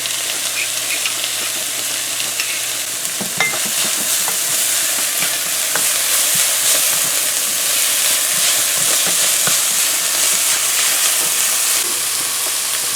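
Crushed garlic fries in hot oil with a continuous loud sizzle and hiss, punctuated by scraping and clicks of stirring.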